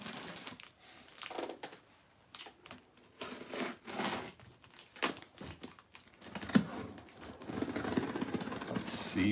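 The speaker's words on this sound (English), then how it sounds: "I have my trusty little pair of scissors here" Scissors cutting open unboxing packaging for a toy three-pack, with irregular snips, crinkles and plastic rustling, quiet and close, with faint talk in places.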